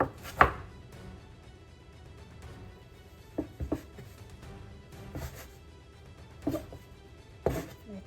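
Sourdough dough divided on a floured kitchen surface, several dull thuds and scraper knocks spaced out over quiet room tone, close and fairly soft.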